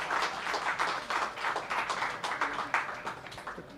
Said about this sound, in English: A big round of applause for Ashish,